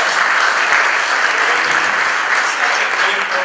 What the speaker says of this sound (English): I would like you to give her a special round of applause